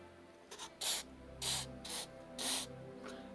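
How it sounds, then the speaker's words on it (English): WD-40 sprayed onto a carburetor gasket at a work table: four or five short, close hissing bursts of aerosol spray in quick succession, each lasting about a third of a second, with no talking. "That WD-40 on that gasket ain't going to hurt it a bit."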